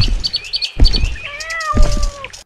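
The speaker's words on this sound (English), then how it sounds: "you can add the sounds of bird chirping and cats meowing" Added sound effects: a cat meows a few times alongside quick, high bird chirps, both close and clear, in a short burst.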